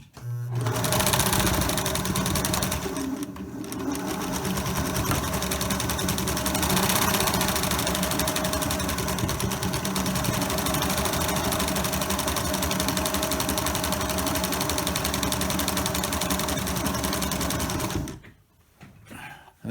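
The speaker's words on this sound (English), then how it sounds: "So all I'm going to do is run each one of these through to sew up the open edges." A sewing machine runs continuously for about eighteen seconds, zigzag stitching the open edges of a fabric medical mask with a loud, even mechanical whir, then stops abruptly.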